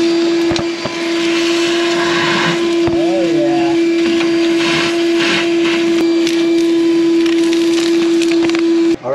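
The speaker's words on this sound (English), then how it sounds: "So now we've HEPA vac'd everything." A HEPA vacuum cleaner fitted with a small tube sucks debris from inside a wall cavity during rat cleanup, a loud, steady whine that runs continuously and close by, with faint scraping under it.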